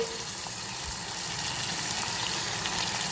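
Spices fry softly in a pan for amti, a Marathi dal, a steady faint sizzle that hisses on without a break or any talking.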